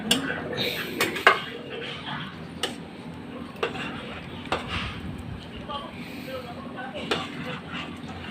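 A lid clanks onto a pot of Bicolano-style pork sinigang with kangkong, giving a few sharp metallic knocks near the start over a steady low simmering background.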